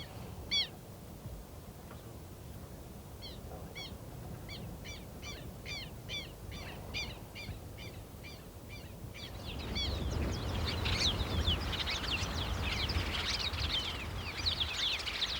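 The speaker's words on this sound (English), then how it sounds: "The marsh birds twitter incessantly to each other" Marsh birds in untouched marsh grassland give repeated short chirping calls in a steady series, then a denser, louder chorus of overlapping twitters rises over a constant ambient hiss.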